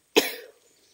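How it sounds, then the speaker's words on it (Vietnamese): A single sharp cough, close and fairly loud, from a person out in a forest on a rainy morning after drinking cold water, trailing off quickly into quiet. "uống nước lạnh là bị ho"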